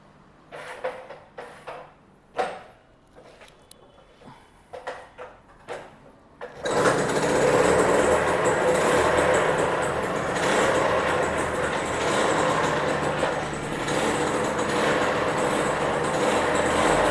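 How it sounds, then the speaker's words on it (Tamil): An old two-stroke motorcycle engine, in running condition, is started after a few quiet shuffling knocks, then runs loud and close with a steady, buzzing, rattling idle that holds for the remainder. "நான் இந்த வெஹிக்கிளை வந்து ஸ்டார்ட் பண்ணி காமிக்கிறேன் பாருங்கள்."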